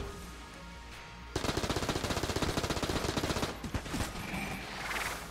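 Rapid bursts of trash cannon gunfire in the video game Mod the Gungeon, a dense rattling volley that starts abruptly and runs for several seconds before tapering off into scattered shots.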